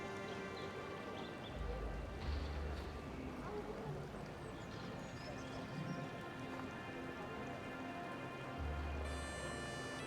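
Steady rain patters across the scene in the village-building game Banished, a broad constant hiss that carries the whole stretch, with talk over it.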